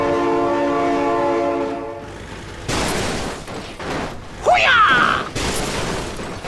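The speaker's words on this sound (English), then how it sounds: "Oh my God, train!" A train in a video game sounds a long, steady horn, then passes with loud rushing and clattering noise and a brief squealing sound, close and intense.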